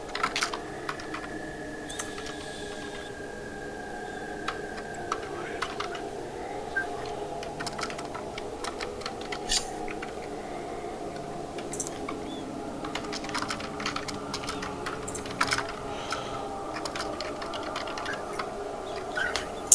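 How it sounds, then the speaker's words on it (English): Quick, uneven clicks from a computer keyboard and mouse come in irregular bursts over a low steady hum, fairly close and quiet, with no voices. "What are you clicking on, Kylar?"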